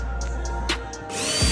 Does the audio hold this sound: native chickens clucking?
no